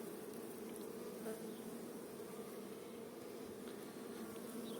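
Dense, steady buzzing of a honeybee colony over frames of brood and honey at an apiary hive, a continuous close drone with no talk.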